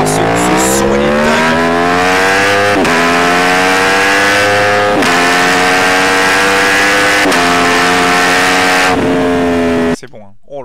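Motorcycle at full throttle with a shrill, racing-car-like scream, very loud and close, the pitch climbing steadily in several long pulls broken by brief shift dips, then cutting off abruptly near the end.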